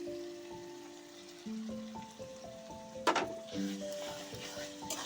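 Spice paste fries in a pan for a prawn and pointed gourd curry, giving a soft, steady sizzle beneath gentle background music, with one brief louder burst of frying noise midway.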